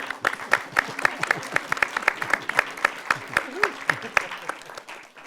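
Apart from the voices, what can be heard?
audience applause for Oscar-winning sound designer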